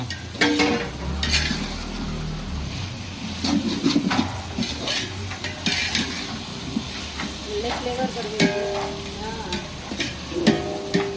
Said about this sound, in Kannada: ಚೆನ್ನಾಗಿ ಮಿಕ್ಸ್ ಮಾಡ್ಕೊಬೇಕು ಗಾಯ್ಸ್ ಪುದೀನ